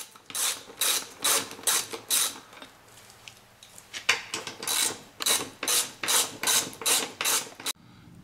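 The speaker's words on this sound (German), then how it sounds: "jetzt können wir die vier Schrauben herausnehmen, Schlüsselweite 13" A ratchet wrench clicks in rapid rhythmic bursts while backing out four 13 mm gearbox bolts on a BMW E34 with an M30 engine, each burst a close, crisp train of pawl clicks with brief pauses between.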